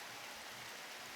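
Rain falls steadily in a farming video game, a soft, even hiss of faint drops with no other sound over it.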